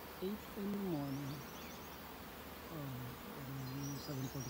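An early morning honeybee swarm near a catch hive, a soft steady buzzing hum of many bees, with a clearer buzz of single bees flying close at times and faint birds calling in the background.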